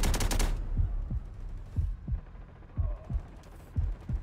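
A fixed machine gun in Delta Force: Hawk Ops opens with a rapid close burst, followed by fainter, spaced low thumps of gunfire in the distance through the rest of the moment.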